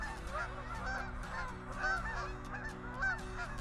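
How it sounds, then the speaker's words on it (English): Geese honk loudly overhead in winter at a nature conservation area, the calls repeating in overlapping bursts that carry clearly above a low outdoor hum. "those geese are really loud up there today."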